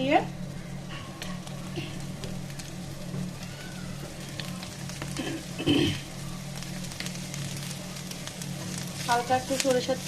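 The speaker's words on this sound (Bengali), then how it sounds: "শুটকিগুলোকে ভেজে নিব" Dried loitta fish frying in mustard oil gives a steady, close sizzle, with stirring scrapes and occasional knocks, and a voice is faintly heard now and then.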